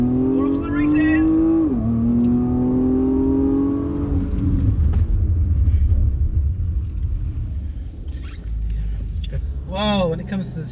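A Porsche Macan Turbo accelerates hard, its engine climbing in pitch before a gear change and then rumbling on, heard from inside the cabin with a person talking over the engine noise.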